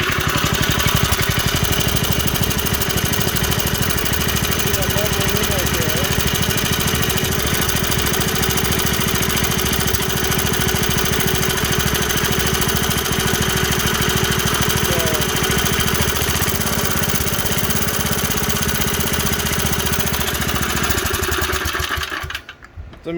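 A Heald VT-3 minibike's small engine runs loud and steady close by, a continuous rough droning chug that holds for over twenty seconds before cutting off at the end.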